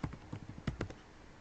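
Typing on a computer keyboard, a quick close burst of about a dozen clicking keystrokes in uneven rhythm, trailing off into quiet.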